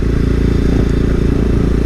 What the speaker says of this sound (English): The bike sounds phenomenal with the Leo Vinci decat